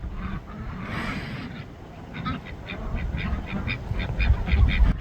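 Jumbo white ducks and smaller white layer ducks quack in a repeated, fairly close series of calls on a homestead, growing livelier toward the end over low outdoor background noise.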